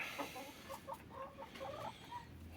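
Chickens in a hen house give soft, repeated clucks and low murmurs, close but quiet, over a faint steady background hum with no one talking.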